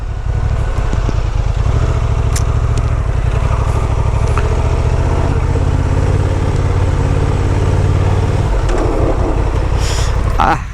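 A Honda XL750 Transalp rumbles close by on an off-road training surface, its low engine drone steady while speeding up and braking, with a voice speaking over it at times.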